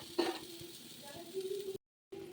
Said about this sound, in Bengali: উচ্ছেটা ভাজা হয়ে এসছে